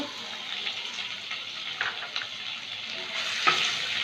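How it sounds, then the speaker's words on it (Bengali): Chopped garlic and ginger frying in oil for a chilli egg dish: a loud, close sizzle with crackles and scraping stirs, heard alone. "এবার রসুন কুচি দেব, আদা কুচিটা দিয়ে দেব,"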